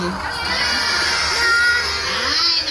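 A crowd of children at a Halloween show in Tivoli shouts together in unison, one loud sustained cheer-like yell that swells and fades over a couple of seconds.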